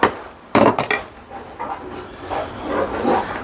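Metal hammer tapping against a stiff, tight part on a piece of junk being broken down, a few sharp knocks near the start followed by quieter rattling and handling noise.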